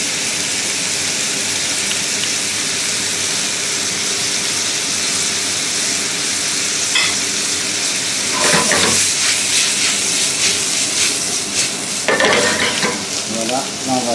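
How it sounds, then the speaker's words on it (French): Mushrooms and finely chopped shallots sear in a hot pan with a steady, close sizzle and hiss, broken by louder bursts of frying and stirring toward the end; no one speaks. "On va les saisir pour les enlever toute l'eau de végétation des champignons."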